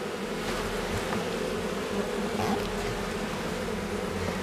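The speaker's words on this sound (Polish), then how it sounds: "To jest ten mój podkarpacki Buckfast. To jest pszczoła bardzo pracowita." A steady, dense hum of many Podkarpacki Buckfast honeybees buzzing close by, continuous and even throughout with no voices.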